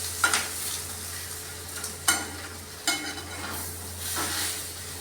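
A potato and eggplant mustard curry gets stirred in a pan, with a few distinct scraping strokes over a low, continuous sizzle.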